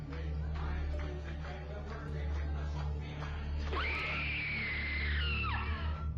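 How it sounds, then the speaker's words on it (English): A scream heard after the lights turn off at the end of a Disneyland show, a long, loud, sustained wail that rises sharply, holds, then drops, over a murky crowd and room rumble. "After the show ends, the lights are turned off and a scream can be heard."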